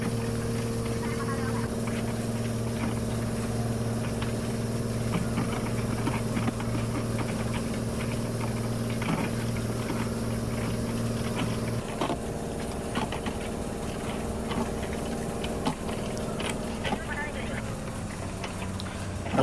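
A fishing boat's engine drones steadily at speed while the crew circles the net, with a strong low hum that shifts midway and carries on under close talking and scattered knocks.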